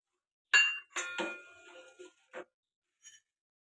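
Almonds and pistachios go into a pot of vermicelli kheer, producing a handful of crisp little clinks and taps, close and separated by near silence. Three come quickly, then two sparser ones follow, and no one speaks.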